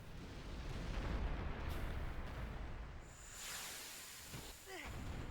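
Rumbling explosions from the video game Final Fantasy X roll on as a heavy low roar, easing midway, then rising again beneath a faint voice.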